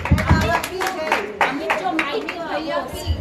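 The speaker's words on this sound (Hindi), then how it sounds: "सबके लिए ताली बजाएं" An audience at a satsang claps in sharp, uneven bursts mixed with lively chatter and voices, loud and close, with the clapping thinning out toward the end.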